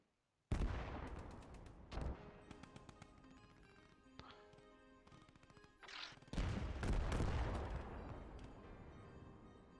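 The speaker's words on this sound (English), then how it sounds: "Because he's shooting." Gunfire rattles in the Post Scriptum battle game: loud close bursts of rapid shots begin sharply, ease off midway, then return in a heavier volley that fades out.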